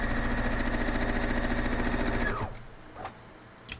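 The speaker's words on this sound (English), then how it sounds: "I'm actually going to go ahead to the sewing machine and run those down." A sewing machine stitches quilt block pieces in a fast, even, rhythmic whir close by, then spins down and stops, leaving a quiet room with a couple of faint handling clicks.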